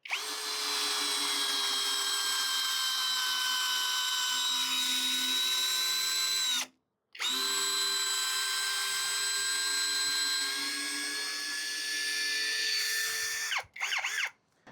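A Hanabi LJ2022 cordless drill with hybrid chuck driving a self-drilling screw: a loud close whine that sags slightly as it bites, stops briefly, then starts again and runs to a final short burst.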